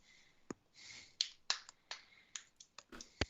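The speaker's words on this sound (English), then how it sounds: "my hand was bored, so it started drumming on my leg" A hand idly drumming on a leg during a quiet online design review meeting: soft, irregular slaps and taps, close and faint, spaced unevenly over a few seconds with no talk.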